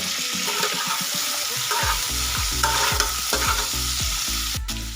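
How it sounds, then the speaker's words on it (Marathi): Lemon pickle ingredients sautéed in a pan, a spoon scraping in steady repeated strokes over a continuous close sizzle, with no talking. "अशा पद्धतीने हे सुद्धा आपल्याला याच्यामध्ये परतून घ्यायचे"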